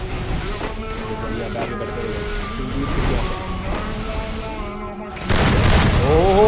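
A few booming gunshots ring out in an online shooting video game during an India versus Thailand match, with a sharper burst near the end over continuous game noise and a commentator's voice.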